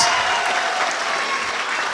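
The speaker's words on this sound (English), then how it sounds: "How about one more round of applause for this jazz band?" Steady, dense applause from a crowd for a jazz band at a school spring concert, loud and continuous throughout with no pauses.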